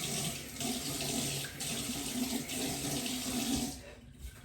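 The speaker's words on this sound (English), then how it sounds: "I just splashed some water on my face." Tap water runs steadily into a bathroom sink as someone splashes it on their damp face, a continuous close hiss with a few brief surges, then it cuts off abruptly near the end, leaving quiet room sound.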